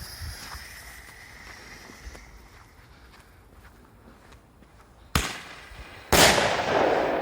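Hammer CAN20-5HAM roman candle fireworks with titanium effect fire outdoors: faint crackles, then a loud pop and a bigger bang with a crackling tail.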